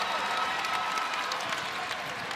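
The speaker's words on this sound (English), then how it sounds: "And the crowd's trying to give him a lift." Basketball arena crowd at an ACC men's game between Georgia Tech and Wake Forest, a steady broad wash of cheering and applause held at an even level throughout, with no clear voice standing out.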